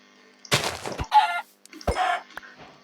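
Minecraft chicken clucks in a video game, two short, loud bursts of squawking clucks separated by a brief gap, with soft thuds in between.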